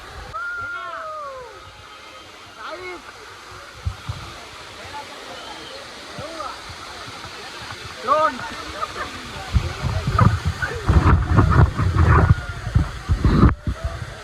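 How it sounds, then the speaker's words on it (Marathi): A waterfall gives a continuous rushing roar while people talk over it nearby. Louder thumps and bursts of noise come near the end. "वंडरफुलीचे धबधबा"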